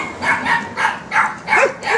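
Bac Ha dogs bark repeatedly in a steady rhythm, about six sharp barks over two seconds at moderate loudness, with a brief whimper near the end.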